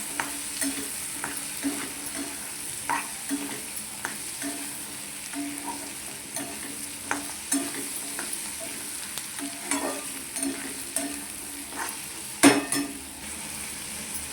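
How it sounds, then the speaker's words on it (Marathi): Roasted chickpeas stirred with onion masala in a pan make soft frying sizzle under irregular spoon scrapes and taps against the metal, close by and fairly quiet, with one sharper clank near the end. "त्यात आता हे हरभरे भाजलेले घालू. हलवून घेऊ."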